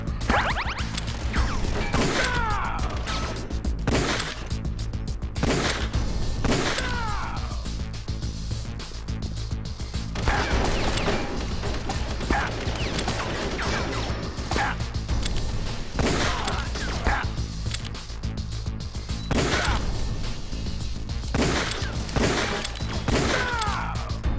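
Gunfire from the video game Metal Gear Solid: The Twin Snakes: repeated sharp shots and impacts in irregular bursts over a steady game soundtrack, loud and continuous throughout.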